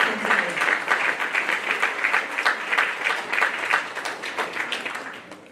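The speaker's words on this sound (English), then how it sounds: "Please give a warm round of applause for Anna." Audience applause for an award recipient at an Armenian Genocide education awards luncheon, a steady roomful of dense clapping that stays loud throughout and thins slightly at the end.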